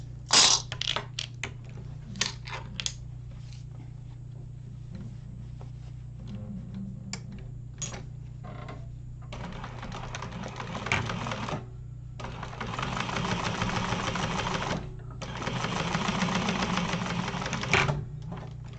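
A sewing machine top stitching a Lemonza wallet, running in short stuttering bursts and then longer steady rattling runs with pauses between, close by and with no talk.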